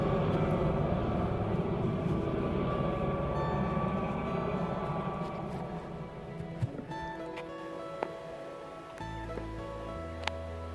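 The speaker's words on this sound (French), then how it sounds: "Je pensais que le bruit de l'hélico allait me couvrir." A helicopter drones over the Chartreuse mountains, a broad engine roar loud at first and slowly fading into the distance, with faint rustles and small sounds nearby as it recedes.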